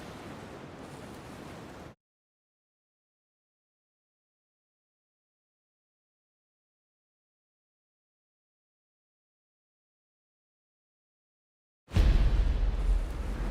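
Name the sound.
strong wind at sea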